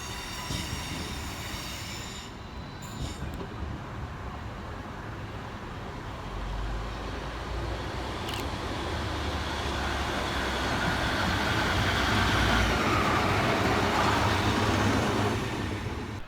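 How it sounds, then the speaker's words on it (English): Transport for Wales Class 153 single-car diesel train arriving at Cardiff Queen Street, a sustained rumble and wheel noise on the rails that swells louder as it nears, with faint squeals partway through. "Next up to arrive all in its lonesome is 153914 with the 1508 Transport for Wales service and Penarth through to Caerphilly"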